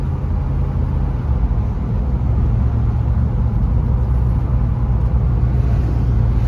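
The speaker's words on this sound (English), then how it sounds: "Mustang here for a spin down the street." A 1968 Ford Mustang Convertible driving down a street, its engine a steady, loud low rumble heard close from inside the car.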